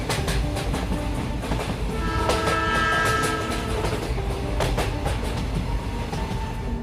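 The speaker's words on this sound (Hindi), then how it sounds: "तभी थोड़ी ही देर बाद इन लोगों की ट्रेन वहां पर आ जाती है।" A train rolls steadily past at close range, wheels rattling and clacking over the rails, with a squealing, screeching brake-like tone as it pulls into the station, loud and continuous throughout.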